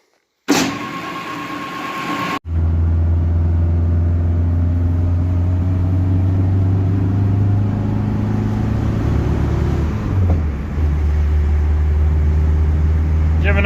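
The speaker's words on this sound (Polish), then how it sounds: "Odpalam białego. Jadę zrobię jakąś rundkę po okolicy, się olej zagrzał." A white Polski Fiat 125p cranks briefly with its starter, then catches into a loud, steady low engine rumble. The pitch shifts near the end as the car sets off.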